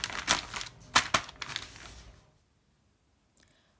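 A plastic Ziploc bag crinkles close up in several quick, sharp rustles as dough is put into it, then falls silent apart from one brief faint rustle.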